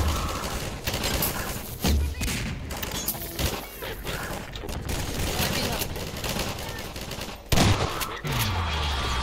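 Rapid pistol fire in Half-Life 2, a dense string of sharp repeated shots with heavy thuds and impacts, loud and close, with a few louder bursts near the end.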